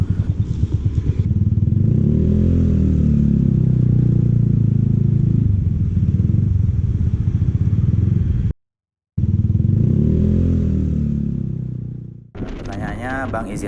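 A Yamaha Mio 150cc bore-up scooter with a tuned CVT ridden on the road, its engine drone steady and close with a short cut-out, then a softer rev near the end.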